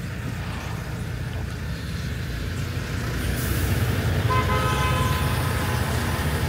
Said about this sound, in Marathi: ट्रॅफिक लागली थोडीशी